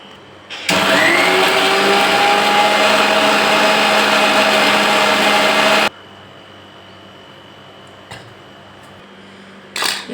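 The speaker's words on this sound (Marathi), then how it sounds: "हे मिक्सरला आता आपल्याला फिरून घ्यायचं आहे." A kitchen mixer grinder runs on garlic, cumin and ajwain, starting suddenly with a loud, dense whirring roar that holds steady for about five seconds and then cuts off. A few faint clicks follow in the quiet.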